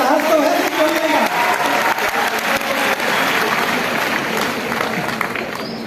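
An audience at an event bursts into loud, sustained applause, a dense wash of clapping lasting throughout with faint voices mixed in.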